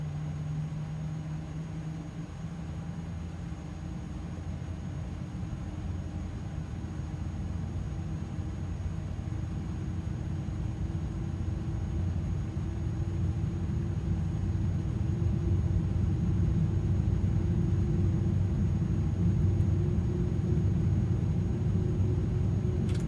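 Simulated jet engine spooling up during start on the iniBuilds A300-600 flight simulator airliner: a steady low rumble and hum that slowly builds in level with a faint high whine, with no talk.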